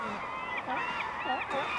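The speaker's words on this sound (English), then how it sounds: "sea lions are everywhere." Sea lions call along a shore crowded with gulls during a herring spawn, giving repeated honking, wavering barks at moderate distance over a constant background wash.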